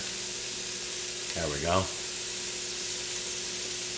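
Leftover Christmas prime rib browns in a pot for chili, giving a continuous close, bright fry-sizzle throughout, with a man's short spoken remark briefly rising over it.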